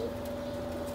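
Pigeons kept for sale cooing close by in a brief, steady low murmur with no voices.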